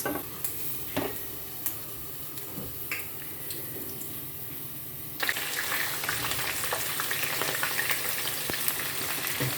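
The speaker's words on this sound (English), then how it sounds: "Allow the onions to fry." Steady crackling sizzle of onions frying in a pot, with occasional stirring clinks; the frying grows louder and denser partway through.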